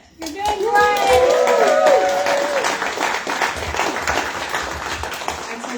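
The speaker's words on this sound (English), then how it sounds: "I told you I was going to pause for a clap, it worked" An audience at a 2023 Blue South BBQ speakers event breaks into applause for a candidate's first public speech, a close, full burst of clapping that swells quickly, then slowly thins while voices speak over it.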